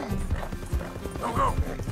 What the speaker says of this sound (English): Come on, loner horse.